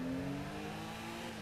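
A car in GTA V revs and accelerates with a steady, droning engine tone that rises slightly, fairly loud and alone, with no talking over it.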